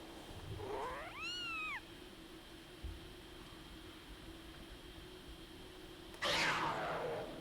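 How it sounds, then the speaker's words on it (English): A cat in The Legend of Zelda: Skyward Sword HD gives a single clear, rising-then-falling meow, soft and near over a quiet ambient background, followed later by a brief burst of game noise. "Oh look, it's a little kitty cat."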